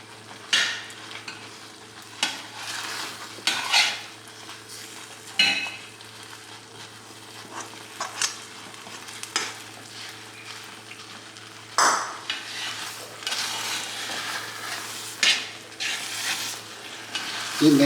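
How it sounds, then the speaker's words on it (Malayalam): Wheat fries in ghee with coconut pieces while a spoon stirs and scrapes the pan, a soft steady sizzle broken by irregular metallic clinks and scrapes of utensil on the pot. "ഇനി ഞാനിതിനകത്ത് നെയ്യും തേങ്ങാക്കൊത്തും നമ്മൾ നേരത്തെ വറുത്ത് വെച്ചിരുന്ന തേങ്ങാക്കൊത്തും കൂടെ ചേർത്ത് ഇതൊന്ന് വരട്ടിയെടുക്കുക"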